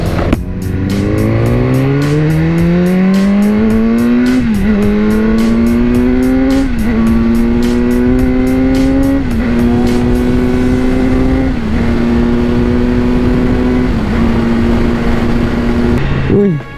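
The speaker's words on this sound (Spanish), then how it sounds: "Bueno, esta va a ser la prueba de aceleración." A BMW S1000R motorcycle accelerates hard along a road, its engine whine climbing steeply in pitch through each gear, then dropping at every shift before rising again, loud and continuous with wind noise throughout.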